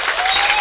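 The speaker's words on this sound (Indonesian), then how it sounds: "kita bersyukur dan tepuk tangan dulu buat semua atas kemeriahan malam ini" Evening gathering audience claps in a brief, dense burst of applause, loud and close.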